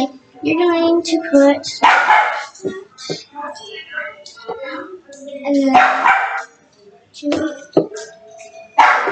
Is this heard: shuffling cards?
no